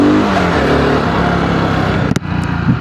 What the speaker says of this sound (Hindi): हल्का सा ही थ्रोटल पुल करने पे बाइक रेडी है भागने के लिए।